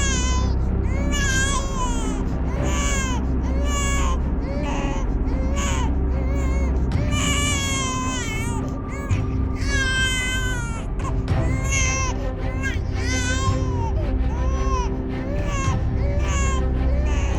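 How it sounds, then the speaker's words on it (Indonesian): A baby cries loudly and without a break, with rising and falling wails over a steady indoor background. "Itu kan suara bayi."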